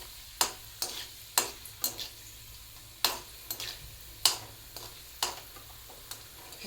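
Dried vegetable vathal frying in oil in a home kitchen, with sharp crackles and pops landing at irregular intervals over a soft steady sizzle, close and fairly quiet, with no talking.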